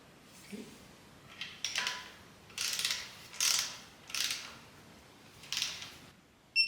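A ratchet clicks in short bursts as it tightens the taper bearings of a 1977 BMW R75/7 motorcycle's final drive, about seven separate strokes close by and fairly quiet, with no talking.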